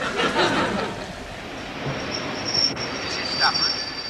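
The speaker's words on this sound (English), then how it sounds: "The train now approaching platform 1 is the 118 from Carlisle" A train approaching platform 1 at Stafford station rumbles steadily nearby with rushing noise, faint metallic squeals and a high whine rising over the din as it rolls along.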